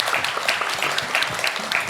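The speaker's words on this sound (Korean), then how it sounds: "큰 박수 부탁드리겠습니다" Audience applause at an academic anniversary conference session on regulatory reform, a steady dense patter of many hands clapping in a hall, lasting the full short stretch without pause.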